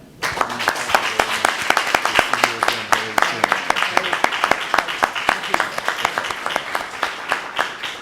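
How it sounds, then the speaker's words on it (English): Audience clapping at an academic symposium, a dense stretch of many hands with sharp individual claps, steady and loud throughout while a voice speaks over it. "And while you're clapping, please let's thank our two panelists for excellent, wonderful presentation."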